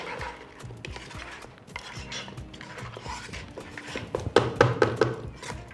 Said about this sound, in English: So with this, I'm still mixing.